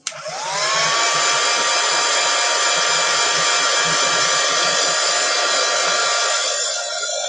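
A hair dryer blasts air onto wet paint on a canvas, starting abruptly and holding a loud, steady whine and rush for about seven seconds with no talking.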